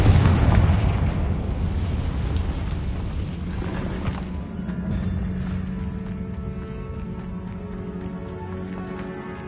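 A Confringo fire spell bursts in Hogwarts Legacy, one loud explosive blast at the start that decays into a long, rumbling tail of crackle and debris.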